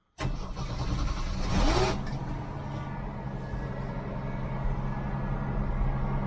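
A Jeep CJ-7 with a Holley Pro-Jection 1D injection setup cranks and fires up out of silence, rising briefly before settling into a loud, steady high idle up close.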